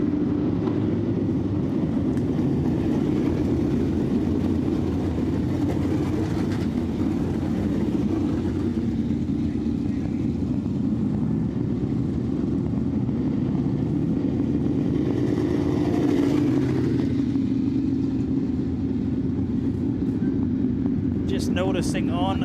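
Race car engines drone at the Southern Ontario Motor Speedway dirt track, a steady roar from cars running laps, with a commentator talking over them throughout.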